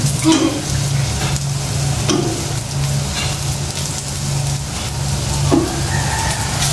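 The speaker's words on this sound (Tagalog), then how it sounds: "Haluin mo lang maigi." Food being stirred in a sizzling pan, a spatula scraping and pushing in a few rhythmic sweeps over a continuous loud frying hiss.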